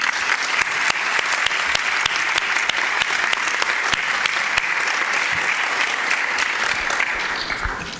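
Seminar audience clapping for government representatives who fought wildfires in Andalucía and Portugal, a continuous dense round of applause with sharp individual claps standing out, steady and close throughout.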